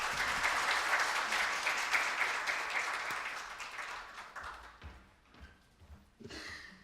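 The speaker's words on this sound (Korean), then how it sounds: "박수 부탁드리겠습니다" Audience applause at a private cryptocurrency and ICO meetup presentation, a dense wash of clapping that starts full and fades over several seconds into near quiet, with a few brief scattered claps returning near the end.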